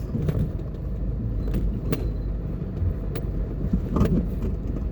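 A car drives slowly through the parking area of Portmore Pines mall in Portmore, Jamaica, with a steady low engine and road rumble and a few faint clicks and knocks over it.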